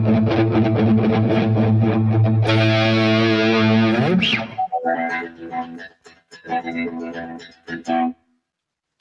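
Electric guitar through effects producing a smooth, sustained, violin-like swelling tone with no attack, held for several seconds, then breaking into choppy picked notes with a person talking over them.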